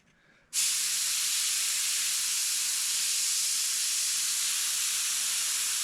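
An airbrush sprays paint onto a wall mural, starting abruptly after a brief quiet moment and then holding a loud, steady, close hiss without pause.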